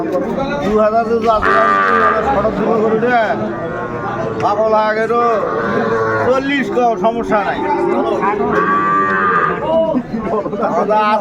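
A Sahiwal bull calf at a cattle market in Narail lows repeatedly, its drawn-out moos rising over the steady chatter and voices of a busy crowd close by.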